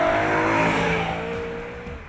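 A BMW M3 engine accelerates hard with wheelspin in second gear, a loud, close, rising rev that holds steady and then eases slightly toward the end, with no talking over it.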